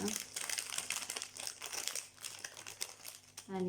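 Crinkling paper as a Christmas gift is unwrapped, continuous close crumpling and tearing rustle throughout, with a voice talking briefly near the end.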